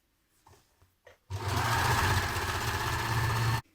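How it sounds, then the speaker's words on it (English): An overlocker runs in one loud sustained burst of about two seconds while sewing trouser seams, preceded by a few faint handling knocks. "I'm going to overlock mine today"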